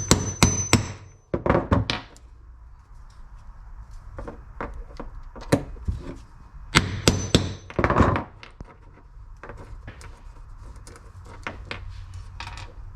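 Parts are smacked out with a 15 mm socket during a valve cover replacement on a Toyota 4.7 engine, heard as sharp, loud metallic knocks in irregular clusters with quieter taps between them.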